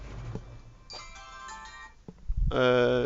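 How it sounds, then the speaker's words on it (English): A phone ringtone plays in a room with network gear, a bright melodic chime that sounds in short bursts and grows louder at the end, with someone talking between the tones. "Whoops, that's the phone."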